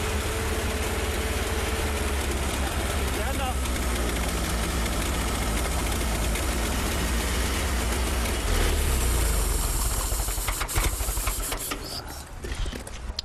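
A WWII fire engine's engine runs steadily with a loud, close, heavy rumbling idle and knocking throb, with a water cooling system leak, becoming rougher and more uneven toward the end.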